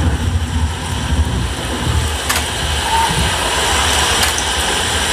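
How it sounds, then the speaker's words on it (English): Steady rain hiss during a 20-lap race in a racing video game, a dense continuous wash of noise with low rumble underneath and a couple of faint brief crackles, no talk. "the rain did start very early in this 20 lap race."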